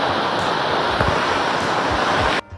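A microburst downpour pours from the sky like a waterfall over a stadium, a dense, loud, continuous roar of falling water that cuts off abruptly at the end.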